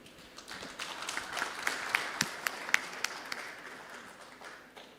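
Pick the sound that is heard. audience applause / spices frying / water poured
audience applause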